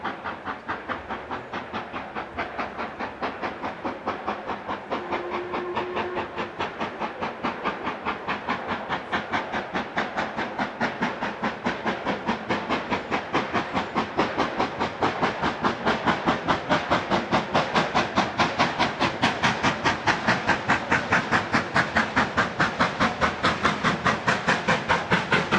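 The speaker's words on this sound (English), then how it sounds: "45212, and this time she is arriving at one of the North Yorkshire Moors Railway's most famous stations, Goathland" LMS steam locomotive 45212 arrives at Goathland station on the North Yorkshire Moors Railway. A continuous loud hiss of steam runs under a fast, steady rhythmic chuffing and clatter that holds close and strong throughout.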